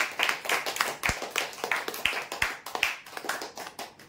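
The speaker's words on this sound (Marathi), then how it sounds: "जोरदार टाळ्या होऊ द्या यांच्यासाठी" A small audience at a prize draw claps for a winner, steady close hand claps in a loose rhythm for several seconds with no talking.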